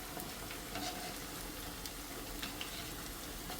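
Urad dal vadas frying in hot oil, a steady close sizzle with soft bubbling crackle running evenly throughout, with faint clinks from turning them over.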